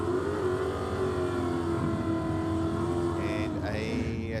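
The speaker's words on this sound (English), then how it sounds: "Camaro looked to falter a little bit off the start line" A Camaro launches off the start line at a drag strip, its engine roaring loudly and revving upward, with an announcer's voice partly audible beneath the noise.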